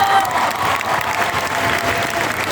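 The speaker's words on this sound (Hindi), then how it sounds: "यार तालियां दो सैल्यूट।" Sustained audience applause from a crowd at a business event, steady and dense clapping throughout with light cheering mixed in, fairly loud and close.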